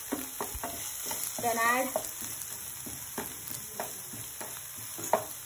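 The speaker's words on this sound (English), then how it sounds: "Fry until the raw smell goes from ginger and garlic." Ginger garlic paste fries and gets stirred in a pan for gobi fry, steady sizzle with repeated spoon scrapes and taps, a brief spoken phrase partway through, and a steady high electronic whine behind.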